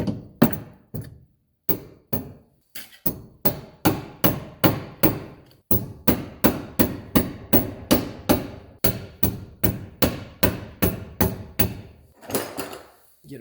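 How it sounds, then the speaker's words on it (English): Repeated loud mallet blows on metal car parts during wheel bearing and control arm replacement on a 2015 Kia Forte 5, struck in steady bursts with brief pauses, close by, no talking. "Grab your mallet. Your mallet, in this case, is your best friend."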